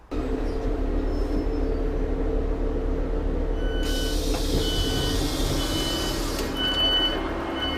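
Train at a railway station on the line near Chinley heading toward Manchester, a steady loud rumble with tonal hum throughout, plus a high electric whine or squeal rising partway through, no talking.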